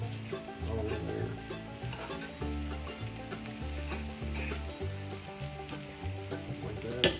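Potatoes and onions fry and caramelize in hot avocado oil in a skillet, a steady close sizzle running throughout with stirring scrapes, while music plays underneath and a voice speaks briefly near the end.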